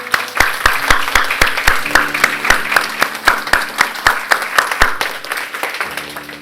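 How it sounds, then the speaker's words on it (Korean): A church congregation claps in a loud, steady, rhythmic beat during a worship service, the regular strikes evenly spaced over a low hum that shifts partway through. "그 주님께 감사와 영광의 박수 올려드리겠습니다"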